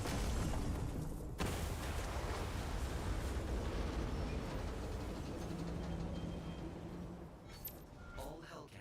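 Destruction of a hack cannon in a video game comes through as a loud, sustained roaring explosion rumble that fades slowly, followed by a few sharper bursts near the end.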